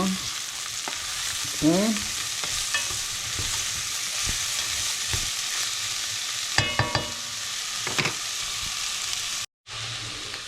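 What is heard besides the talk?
stirring bell pepper in a frying pan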